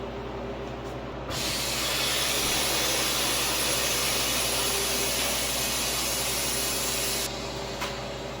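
A freeze dryer's drain valve releases its vacuum in a loud, steady rush of escaping air that hisses for about six seconds, then stops abruptly.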